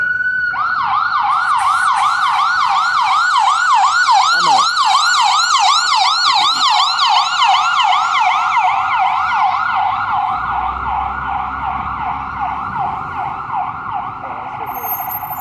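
An ambulance siren on a Manhattan street wails in rapid, repeating up-and-down sweeps, loud and close at first, then easing off as it passes and fades near the end.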